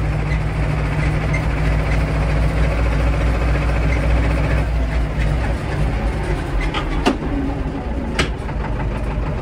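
An Escort 335 tractor, successor to the Ursus C-330, drives along with a loud, steady engine drone that continues throughout, with a couple of sharp clicks or rattles near the end.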